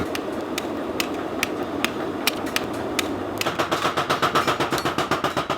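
A blacksmith strikes a red-hot hoe (homi) on an anvil, giving sharp metallic clangs at a steady pace that break into a fast run of rapid hammer blows, close over a constant background roar of the forge.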